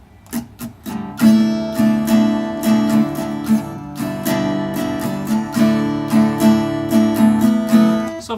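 Close, steady acoustic guitar strumming alternates sharp percussive muted chops with ringing open chords in a quick repeating rhythm, loud and played alone.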